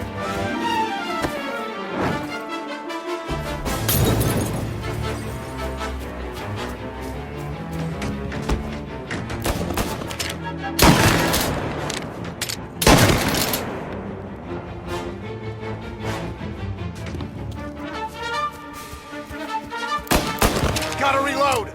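Gunfire in the crime video game Mafia, repeated heavy shots and bursts over a dense layer of game music and noise, with a louder blast cracking out now and then.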